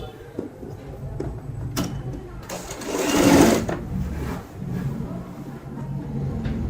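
A sewing machine stitching a seam on a readymade gown during alteration, its rapid mechanical whirr running in bursts that build to a louder stretch, with a few clicks and handling knocks around it.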